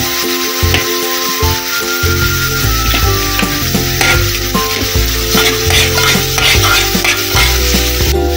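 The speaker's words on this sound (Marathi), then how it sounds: "कांद्याची पेस्ट टाकते, आला लसूण पेस्ट टाकते" Onion paste and ginger garlic paste fry in a pan for pav bhaji, sizzling loudly and close, with stirring scrapes over a steady hiss and a low cooktop hum throughout.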